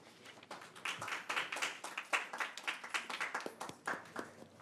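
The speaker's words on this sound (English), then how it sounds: "Thank you for clapping." A small group claps at a school board meeting after a vote passes, producing distinct, uneven hand claps that are fairly quiet and close, with no speech.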